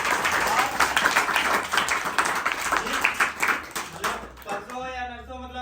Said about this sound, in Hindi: और हम चाहेंगे एक बार जोरदार तालियां आप लोग खुद के लिए बजाएं।